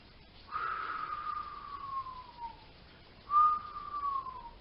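A human voice whistles to imitate the wind, two long gliding tones that slide slowly downward, the first lasting about two seconds and the second shorter, close and fairly soft with no other sound.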